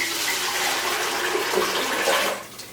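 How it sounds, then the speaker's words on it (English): Salt brine for cheesemaking is poured into a pot, giving a steady, close splashing and gurgling stream that tapers off near the end. "So I'm going to add my newly made cheese brine to my pot, salt brine."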